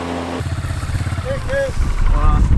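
A motorcycle engine idles with a low, steady rumble beneath people talking over it for a couple of seconds.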